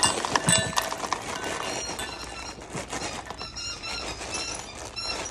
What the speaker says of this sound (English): so I'll pour their food in